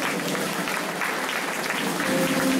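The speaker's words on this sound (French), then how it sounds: "On peut l'applaudir très fort." Audience applauding a musician, a steady dense wash of clapping from a crowd that holds evenly throughout and ends slightly louder.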